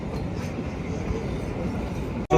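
Himalayan Queen toy train on the narrow-gauge Kalka to Shimla line, a steady close rumble of rolling wheels and carriage noise throughout, ending in a brief sharp cutoff and jolt.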